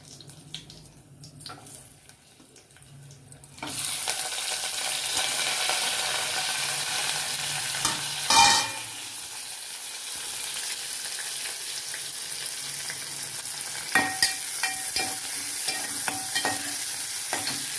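Onions, curry leaves, dried red chillies and garlic hit hot oil for a tempering for bottle gourd curry, bursting into a loud, steady sizzle after a quiet start, with a sharp splash partway through and occasional stirring scrapes.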